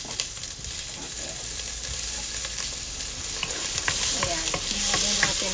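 Tomatoes go into a hot pot of salmon-head sinigang, with a steady close sizzle of frying and scraping stirring sounds that grow slightly louder toward the end, with no talk over it.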